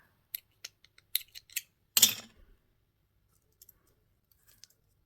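Scissors snip excess thread off a beaded bag: a few small, close clicks and snips, then one louder rustling cut, followed by faint scattered ticks in near silence.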